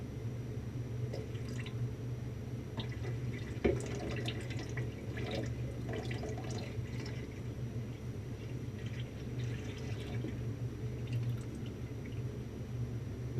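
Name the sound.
pouring lye water into oil for soap making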